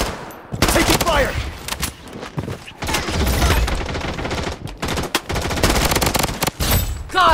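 Dense, sustained automatic gunfire fills a Blood Strike firefight, close and loud with brief gaps, and game voice callouts mixed in.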